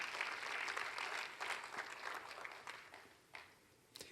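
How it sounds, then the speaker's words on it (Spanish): A church congregation claps during a sermon, steady mid-level applause of many hands that tapers off near the end, with no one talking over it. "Déselo al Señor si le va a aplaudir"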